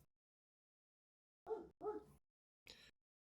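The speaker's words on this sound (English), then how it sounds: "I apologize for the dog barking" Three short, sharp dog barks in quick succession, fairly distant and faint, separated by silence.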